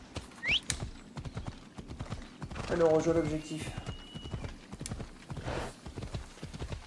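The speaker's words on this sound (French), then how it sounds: "Le cheval arrive toujours par derrière." Horse hooves clip-clop in the video game Assassin's Creed Odyssey, a steady run of hoofbeats at moderate level beneath someone talking, with a brief whinny near the start.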